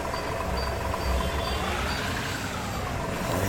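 A truck in a driving video game pulls out of a parking area with a steady, loud engine rumble and no break in the sound.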